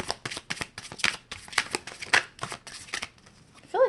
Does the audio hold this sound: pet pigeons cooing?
no